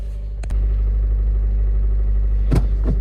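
A 2008 Honda Civic Si engine with a clacking valve kicks in abruptly and settles into a loud, steady running hum, with a couple of sharp clicks and knocks cutting through near the start and later on.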